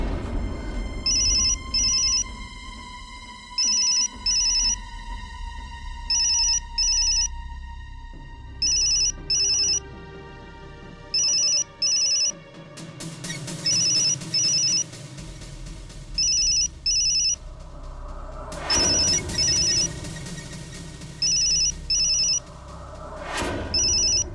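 An electronic phone ringtone chimes in short repeating bursts, ringing steadily over a low background score.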